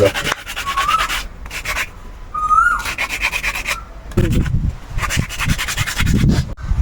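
Coconut shell salt jar being rubbed and polished by hand, a dry scraping friction in repeated bursts of strokes with short pauses between, close and alone.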